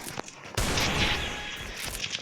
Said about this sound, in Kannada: ಶಾರ್ಟ್ ಗನ್ ತೊಗೊಂಡಿದ್ದೀವಿ ಇವಾಗ